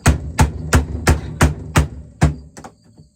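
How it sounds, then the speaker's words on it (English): Rubber hammer striking a wooden piece of a homemade flower cooler's door frame, seven firm evenly spaced blows followed by a few lighter taps, close and loud. "I got this rubber hammer"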